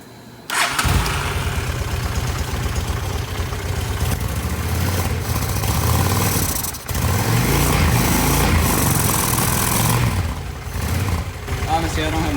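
A single-carb 750 motorcycle engine, run without its air box, idles with a steady low rumble close by, dipping briefly once before settling back.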